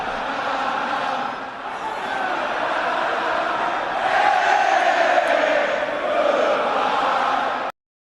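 A packed baseball stadium crowd roars at World Series Game 7 between the Toronto Blue Jays and the Los Angeles Dodgers, a loud continuous swell of cheering that peaks midway and then cuts off abruptly.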